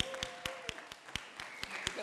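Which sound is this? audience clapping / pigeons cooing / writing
audience clapping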